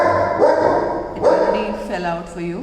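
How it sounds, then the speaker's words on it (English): A dog barks and yips at someone at the gate, several loud, close barks following one another, while a person talks over them. "Sorry for my dog, somebody at the gate."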